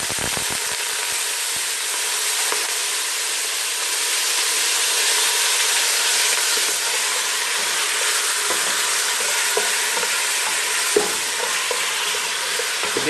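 Chicken pieces hitting melted desi ghee in a pot for chicken yakhni, a loud, continuous close hissing sizzle with a few faint stirring knocks, steady throughout and with no voices.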